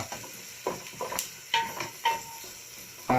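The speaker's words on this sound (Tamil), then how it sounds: "வெங்காயம் நல்லா வதங்கிருச்சா" Chopped onions sautéing in a pan for chickpea kurma, with faint sizzling and a series of short scraping stirs at an even rhythm.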